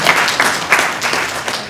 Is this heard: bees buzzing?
no